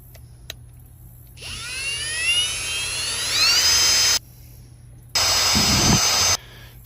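An electric drill whines loudly while drilling into a weed eater part, rising in pitch as it speeds up, runs for a few seconds, stops, then bursts on again briefly.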